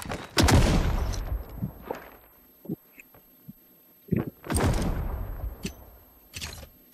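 Lost Light on Mt. Akiyama: bursts of gunfire cracking in short volleys, some near and loud, others fainter single shots in between, with gaps of quiet.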